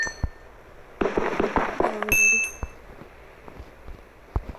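Experience orbs collected in Minecraft Skyblock give a quick run of bright, tinkling pickup chimes near the middle, set among scattered soft clicks and thuds of gameplay.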